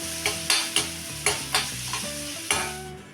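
Masala stirred in a hot pan with a steady sizzle of frying, a ladle scraping and knocking the metal in a regular rhythm of about six strokes, close and clear with no talking.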